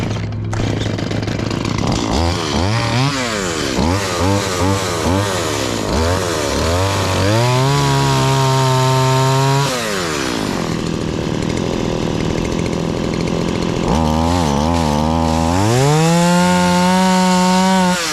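Chainsaw cutting notches into a tree, loud and close, with the engine revving up and down repeatedly as the chain bites into wood, then holding high under load during longer cuts.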